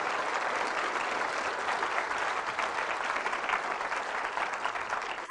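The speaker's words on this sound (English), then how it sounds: "Loud applause for the King of Kings and Lord of Lords." A church congregation applauding during a sermon, with dense, sustained clapping that fills the room at an even level, then fades slightly at the very end.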